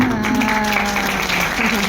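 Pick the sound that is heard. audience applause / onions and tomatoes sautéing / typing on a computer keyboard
audience applause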